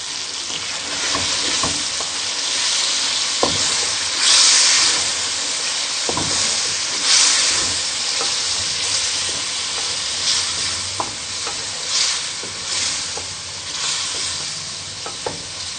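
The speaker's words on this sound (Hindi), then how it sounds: "तकरीबन हम इसको 5 मिनट भुनेंगे ताकि ये टमाटर और ये दही मिक्स हो जाए अच्छे तरीके से।" Tomato and yogurt masala for butter chicken fries in a pan, a loud steady sizzle broken by scraping stirs and occasional sharp pops and hisses throughout.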